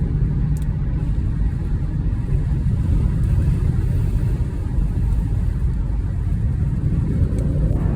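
Steady low tire rumble and road noise from a car driving down a road, constant and fairly loud inside the cabin with no breaks.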